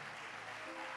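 A church congregation at a Spanish-language sermon claps in praise, a short burst of continuous, even clapping filling the room.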